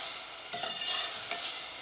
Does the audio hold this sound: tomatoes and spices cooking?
yes